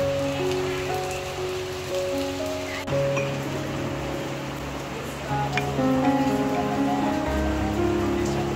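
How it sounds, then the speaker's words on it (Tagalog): Steady rain keeps up a dense, even hiss throughout, layered over faint tonal background sounds, with no clear break in the downpour. "Medyo nawawala na yung ulan"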